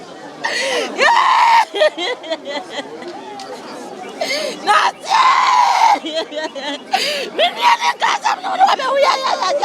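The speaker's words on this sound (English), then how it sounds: "But you can see the wailing crowd, people who have lost their relatives." A distressed crowd of grieving relatives at a hospital in Ejura, with loud overlapping wails, cries and agitated chatter rising and falling in waves close by.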